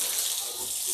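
Water sprays steadily onto pigs in a pen from a hose, a constant close hiss and splash with no break across the second.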